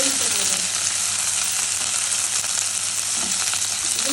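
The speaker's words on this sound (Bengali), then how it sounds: "সবগুলোকে একসাথে ভেজে নেব" Onion, garlic and red and green chillies fry in hot oil for a dried kachki fish dish, giving a loud, continuous sizzle throughout with no talk.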